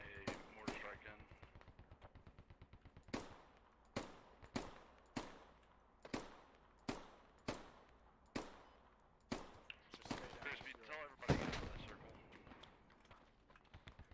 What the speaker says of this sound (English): Putting a mortar strike in.